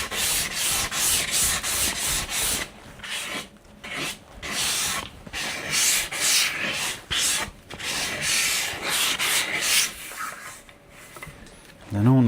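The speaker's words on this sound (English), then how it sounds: "a little light rub over with 180, being really careful on the corners because we don't want to misshape them by being heavy-handed with the sandpaper" An end grain wooden cutting board is hand sanded with 180 grit sandpaper in repeated rhythmic rubbing strokes, close and fairly loud, with brief pauses between passes.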